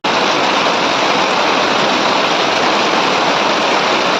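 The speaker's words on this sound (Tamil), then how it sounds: "நீங்களே பாருங்கள் எப்படி மழை பெய்யுதுன்னு" Heavy evening rain pours down in a steady, loud roar, with water rushing along a flooded road, a dense continuous wash that holds level throughout with no voices.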